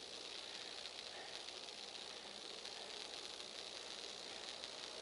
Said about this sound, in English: power lines sizzling above our head